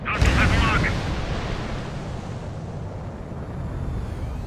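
Missiles and explosions in the Ace Combat 7 flight game during an F-15E Strike Eagle mission: a loud blast at the start, then a rumbling roar that settles into a sustained jet and engine drone.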